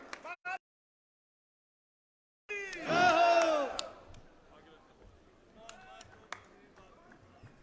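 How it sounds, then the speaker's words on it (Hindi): A crowd at a farmers' tractor rally in Gohana bursts into loud cheering and clapping to welcome a leader, a short swell of voices that fades into scattered noise, with brief speech before a silent gap. "सभी लोग तालियां बजा करके बहुत जोरदार स्वागत करें"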